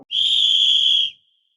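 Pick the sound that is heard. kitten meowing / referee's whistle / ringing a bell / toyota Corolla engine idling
referee's whistle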